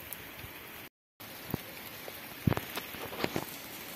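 Rain patters steadily on a surface, with scattered individual drops tapping close by, quiet and continuous.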